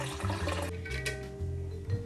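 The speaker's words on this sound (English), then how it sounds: "Put the strainer over, grab our jug, pour it on in." Homemade French lemonade pours through a cocktail strainer into a jug as a soft, close splash and trickle of liquid that carries on briefly and faintly, with no talking.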